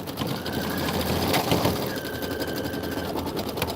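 A sewing or embroidery machine stitches a Kimberbell Let It Snow pillow, running in a steady continuous whir with a fast mechanical rhythm and no talk.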